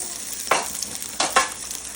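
Chopped shallots frying in coconut oil for a Kerala fish curry in coconut milk, giving a steady close sizzle with a few louder bursts of crackle and stirring scrapes, no voices.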